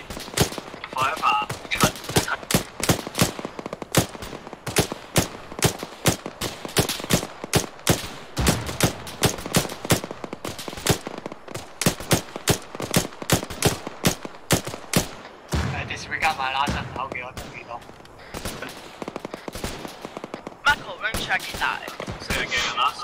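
Rapid gunfire in an Arma 3 military battle, dense bursts of automatic shots and single cracks hammering on without pause for the whole stretch, with faint voices under the shooting.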